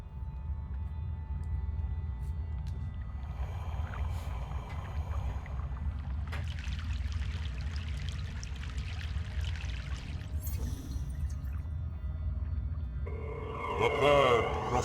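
A boat crosses a river in Broken Sword 3: The Sleeping Dragon, with low steady water lapping and engine-like rumble, soft pouring splashes and faint creaks, a voice speaking briefly over it.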